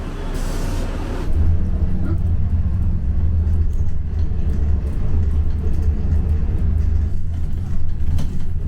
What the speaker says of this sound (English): here goes one of the buses